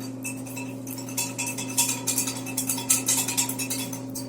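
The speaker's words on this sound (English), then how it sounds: "So I'll whisk that up" Whisking homemade yeast ingredients in a bowl gives a run of quick, light metallic clinks and ticks, growing louder and more rhythmic partway through, over a steady low hum, with no talking.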